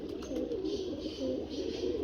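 Teddy-type fancy pigeons coo in a steady, repeating series of low throaty calls, fairly close and continuous with no talking over them.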